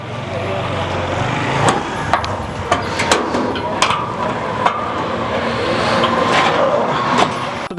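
A modern grain threshing machine for paddy, wheat and mustard is turned over, giving a continuous mechanical rattle and whir with scattered sharp clanks, close by, while a voice talks over it.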